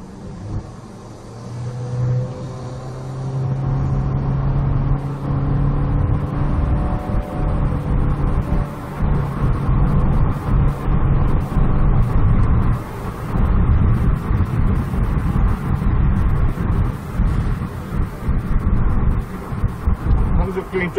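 Car fitted with an aftermarket Ghost Alpha exhaust and a stock intake, revved up at close range: a loud, continuous engine rumble rises and holds, with throttle surges and a deep roar throughout.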